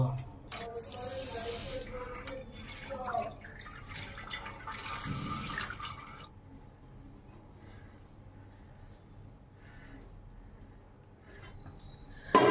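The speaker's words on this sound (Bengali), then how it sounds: "সবার প্রথম চালটাকে ভালো করে পরিষ্কার করে ধুয়ে নেব" Govindobhog rice is washed in water for Bengali payesh, with close splashing and swishing for about six seconds, then quieter trickles and drips.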